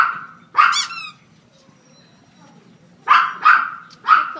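Small puppy at an animal shelter giving sharp, high yips: one bark early, then a quick run of three more near the end, close and loud over faint room noise and background voices.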